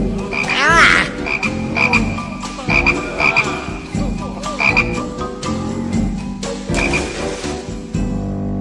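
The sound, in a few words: frogs croaking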